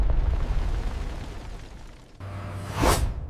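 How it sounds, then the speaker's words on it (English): A blast tearing apart earth while a canal is dug, a rumbling low roar that builds to a sharp bursting whoosh near the end, loud and close, with no talk. "Entire sections of Earth had to be blasted apart."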